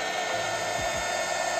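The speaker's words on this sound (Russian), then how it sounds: "Это фен." A hair dryer blows steadily close by, thawing a frozen workroom where cabochons are cut, a continuous whirring hum with brief lower sweeps partway through.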